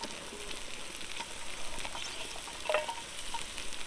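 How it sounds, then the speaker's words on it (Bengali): Chopped onions frying in a pan for village-style chicken chow mein, a steady close sizzle with a brief louder crackle midway and no talking. "পেঁয়াজ কুচি দিয়ে দেবো"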